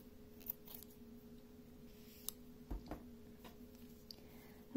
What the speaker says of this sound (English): I can snip off a tail.